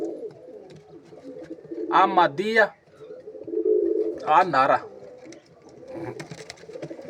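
Pigeons kept for sale coo in two or three throaty, rolling bursts close by, mixed in with someone speaking over them.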